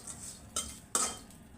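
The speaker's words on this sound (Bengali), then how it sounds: "বন্ধুরা, প্রথমে আমি শুটকিগুলোকে একটু ভেজে নিব।" Dried fish (shutki) fries in a pan with a soft background sizzle, broken by two sharp metallic clinks and scrapes of a utensil stirring against the pan.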